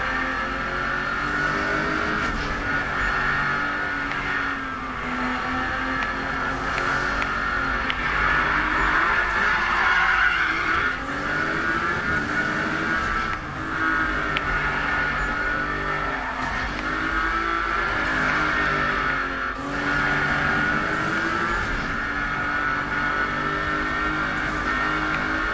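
Street racing cars in Need for Speed 2015 roar steadily with engines revving and rising and falling. Occasional tire skids cut through the loud, continuous mix, and no voices are heard.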